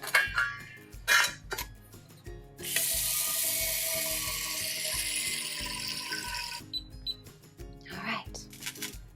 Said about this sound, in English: filling up a pot of water so that we can go ahead and get our pasta cooking